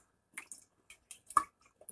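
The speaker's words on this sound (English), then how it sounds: "gently incorporate the water with the starter first" Water is stirred by hand into a rye sourdough starter, giving soft, wet squelches and sticky clicks in an irregular rhythm, close and quiet.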